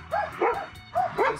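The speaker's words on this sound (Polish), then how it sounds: "Są też psy." A dog guarding old cars at a yard in Uruguay barks four short, yappy times in an even rhythm, moderately loud and alone.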